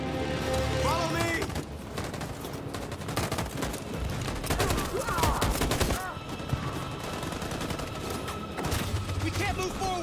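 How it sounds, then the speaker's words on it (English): Machine-gun fire in a war video game, with bursts of rapid shots and booms in a sustained fusillade that runs throughout, dense and loud, and voices calling out over the battle. "Machine gun is taking down everything that moves!"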